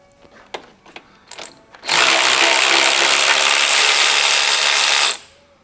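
Power ratchet wrench spinning a bolt off the beam of a 1957 VW Beetle: a few short clicks and taps, then one loud continuous buzzing whir for about three seconds that stops abruptly, close by and alone.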